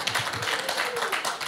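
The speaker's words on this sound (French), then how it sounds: "Merci pour la personne qui applaudit." A lone person clapping in a church gathering, a run of quick, evenly spaced claps at moderate distance, with faint voices in the room.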